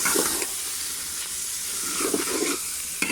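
Carrot barfi mixture with coconut and nuts fries in ghee with a soft, continuous hiss and sizzle, close, punctuated by a few faint stirring scrapes, with no talking.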